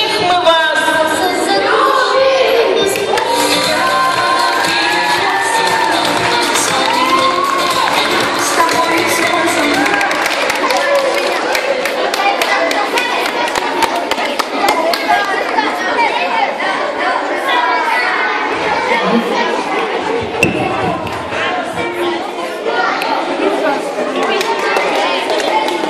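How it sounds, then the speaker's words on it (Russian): Audience at a counselors' concert at the Iskra summer camp, a sustained roar of clapping, cheering and children shouting that fills the space, loud and continuous, with voices speaking over it. "Да, очень хорошо, когда вы хлопаете и нас поддерживаете."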